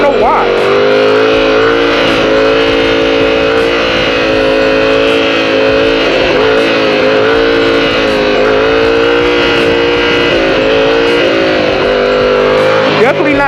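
A motorcycle engine drones loud and steady in first gear while riding a wheelie, with a constant close engine roar, wind rush, and slight throttle wavers throughout, with faint talking mixed in.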